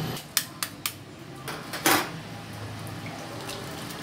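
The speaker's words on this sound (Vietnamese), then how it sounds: "Mình vớt trứng ra, mình cho vào thau nước lạnh ha, cho dễ bóc." Boiled eggs dropped one after another into a basin of cold water, four or five sharp clinks and splashes close by, followed by a louder sloshing splash and quiet water afterwards.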